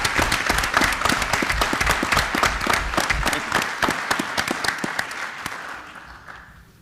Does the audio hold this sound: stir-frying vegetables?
no